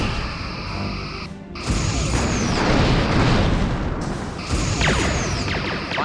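Torpedo launches and explosions in the Star Trek Bridge Commander space combat game, a sharp whooshing launch followed by heavy booming blasts and rumbling debris, loud and close, with no voices.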